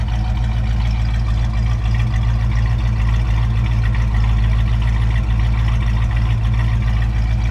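Restored 1969 Ford Mustang Mach 1 R-code Cobra Jet V8 idling steadily nearby, a deep constant rumble with no revving and no voices.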